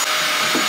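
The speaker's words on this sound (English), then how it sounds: "we're just going to hoover all that up and clean it" A vacuum cleaner hoovers up dirt from a living room floor during decluttering, its steady loud whooshing drone filling the short moment without any voices.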